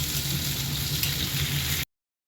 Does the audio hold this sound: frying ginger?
yes